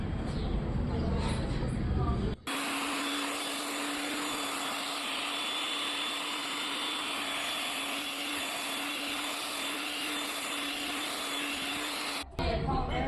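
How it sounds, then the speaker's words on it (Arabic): An electric grinder whirs loudly and steadily for about ten seconds while grinding spices for falafel, a harsh high motor whine that starts and stops abruptly, with a voice talking just before it starts. "تعال نطحنها ونشوف شكلها يبقى عامل ازاي"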